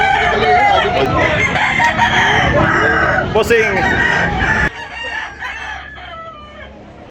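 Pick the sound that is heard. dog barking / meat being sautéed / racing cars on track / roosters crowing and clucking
roosters crowing and clucking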